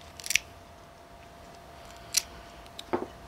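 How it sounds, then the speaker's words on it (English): A knife trims the scraggly tails off a foliage star, giving three brief, crisp snipping cuts spaced apart against a quiet background. "I'm gonna use my knife, and I'm just cutting off the crummy tails."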